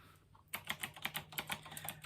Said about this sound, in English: I love the clicking. The more clicking, the better.